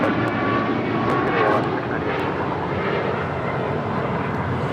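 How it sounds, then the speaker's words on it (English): An Alaska Airlines Boeing 737 MAX 9 jet roars steadily during its takeoff roll at LAX, a broad continuous engine rumble heard from a distance with no talk. "This is Alaska Airlines 1398, taking off to Mazatlan on a MAX 9."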